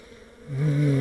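Live honeybees in a hive being treated with oxalic acid give a low, steady buzz that swells halfway through and stays loud and close to the end.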